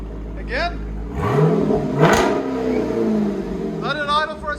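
A 2022 Dodge Durango SRT with a 6.4L HEMI V8 and a Borla ATAK cat-back exhaust revs up hard and drops back, loud and close, while people talk and whoop over the engine.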